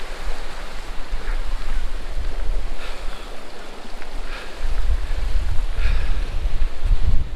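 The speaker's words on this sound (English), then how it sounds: "And it's lovely with the waterfalls." Steady broadband rush of waterfalls flowing, a continuous outdoor water roar with low rumble, loud and unbroken throughout with no voices.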